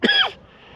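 A single dry, irritated cough or throat-clearing burst, close and fairly loud, lasting under half a second before fading into quiet room tone.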